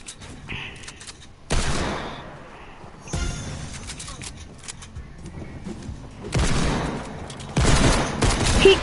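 Bursts of rapid drum gun fire in a video game come in several loud clusters separated by quieter gaps, with faint background noise between volleys.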